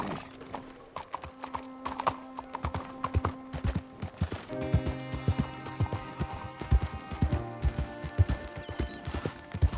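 Steady clip-clop of horse hooves in a walking rhythm within Red Dead Redemption 2, continuous for several seconds over a background music bed with sustained tones.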